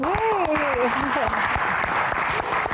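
Audience applause for a singer at an album Q&A event, dense continuous clapping with a voice speaking over the start.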